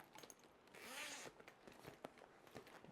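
A close, quiet zipper rasps open on an outer pocket of a concert bag in one quick pull, followed by light fabric rustling and small handling clicks.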